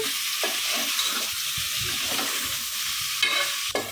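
Camel meat curry is stirred and mixed in a sizzling pan, with a steady fry hiss under repeated scraping, clinking strokes of the spoon, close and continuous with no talk.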